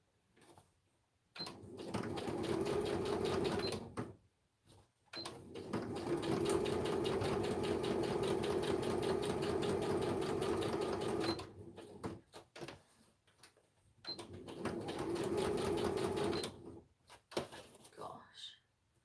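A home sewing machine stitches in three long bursts, a fast, steady, close whirring rattle broken by pauses, while someone talks about Christmas stacked-books crafting.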